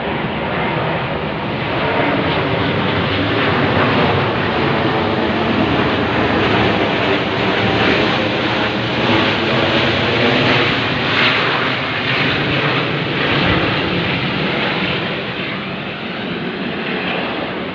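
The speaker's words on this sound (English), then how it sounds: "That plane is straight over my head as soon as I come out." A loud, sustained roar of an airplane passing close overhead in Leichhardt, Sydney, steady and broad for the whole stretch before easing slightly at the end.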